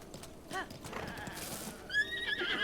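A horse in a video game trots with a quick run of hollow clip-clop hoofbeats and a sharp whinny, followed by bright synthetic chiming tones, all fairly close and loud.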